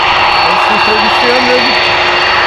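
KLM jet airliner on flight 877 to Mumbai, heard at Amsterdam Schiphol Airport with a loud, steady engine roar and a high whine. A voice speaks briefly over it.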